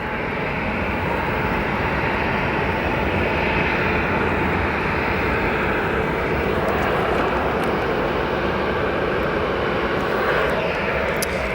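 Jet aircraft roar at O'Hare Airport, with a United Airlines jet on the tarmac as other planes arrive, making a loud, continuous, broadband engine rumble that stays steady throughout with no talking.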